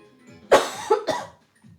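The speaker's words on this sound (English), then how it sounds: "My coughs sound much worse than they are." A person coughs after water goes down the wrong way: three sharp, close coughs in quick succession, then fading into quiet breathing.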